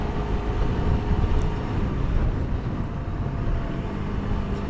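A Suzuki GSX-R 150 motorcycle being ridden gives a steady, loud engine drone mixed with broadband wind rush throughout, with no speech.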